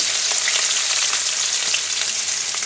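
Dried red chillies, ginger and garlic sizzle in hot oil alongside cumin, a steady, bright crackling hiss with small pops, close and continuous with no talk.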